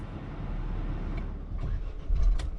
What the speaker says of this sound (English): Okay, then the car has been turned on.